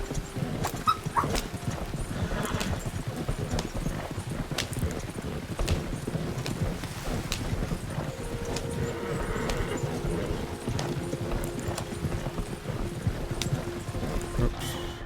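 Carriage horses in Red Dead Redemption 2 on PC trot steadily, their hoofbeats clopping in a continuous rhythm with rolling wheel rumble and a voice speaking over it.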